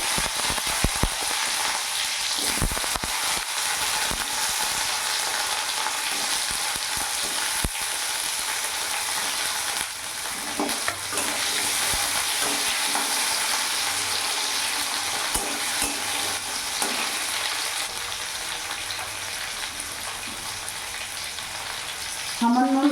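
Two large tomatoes fry in hot oil tempered with a dried red chili and half a spoon of kalonji for a vegetarian drumstick curry: a steady, even sizzle throughout, with occasional stirring scrapes and no talking.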